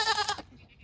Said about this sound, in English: Oh, you picky goats.